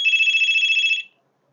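An incoming call rings on a 4G LTE wifi modem phone with an old-style telephone bell tone: a loud, steady warbling ring held for about a second, then it cuts to silence.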